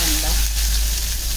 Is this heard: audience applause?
no